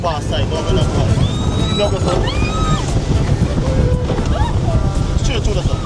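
A speedboat engine runs on the water on an excursion in Ocho Rios, Jamaica, a loud continuous drone masked by wind buffeting and high whistling tones, with voices over it.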